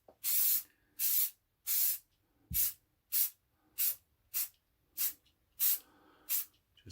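Spray paint is applied to a Moto Guzzi cafe racer front-end part in about ten short, even hissing bursts separated by brief silences, close and clear with no talk.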